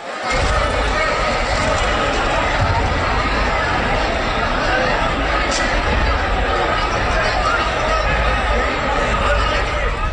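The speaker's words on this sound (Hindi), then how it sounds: "फिर वही भीड़ का भयानक रेला।" Large surging crowd of workers packed into Bandra station in Mumbai, a dense continuous roar of many voices and shuffling that holds steady and loud throughout, with no single voice standing out.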